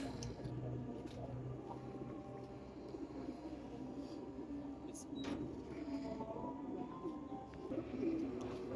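Pigeons coo softly in a low, continuous murmur, faint and steady throughout with a few small knocks in the background.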